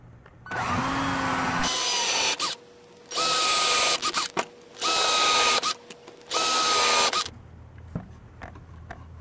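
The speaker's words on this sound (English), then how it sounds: "What we're going to use is a regular cordless drill with the countersink bit." A cordless drill fitted with a countersink bit whirs in four bursts of a couple of seconds each, biting into material, with short quiet gaps and small clunks between.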